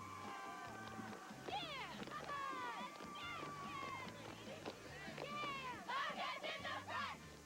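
High school cheerleaders from Bel Air shout a rhythmic chant together, several voices in shrill, varied calls at a steady distance.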